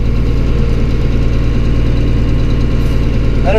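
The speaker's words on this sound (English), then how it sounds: "Okay, I've been running the tractor." A John Deere 4840 tractor engine with a leaking radiator runs steadily at idle, a deep continuous rumble with even low throb, close and loud throughout.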